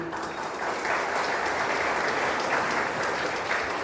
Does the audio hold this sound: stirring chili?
no